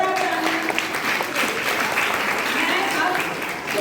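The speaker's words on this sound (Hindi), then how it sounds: "तो अब मैं जोरदार ताली" Audience applause at a school quiz competition for girls of classes 6 to 8, a steady dense clapping that fills the whole stretch with some voices mixed in.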